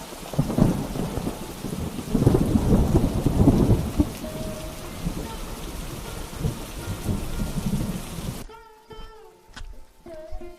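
Heavy torrential rain pours down with thunder rolling through it, a dense loud hiss with booming swells that cuts off abruptly near the end, leaving faint tonal music.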